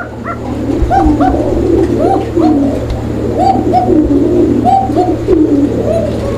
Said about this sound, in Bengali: ডাকটা আমি শোনাই দিলাম আপনাদেরকে